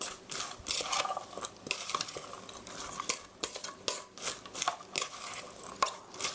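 Tomato pancake batter stirred steadily in a bowl, producing a continuous run of close, rhythmic scraping clicks and taps with no talking.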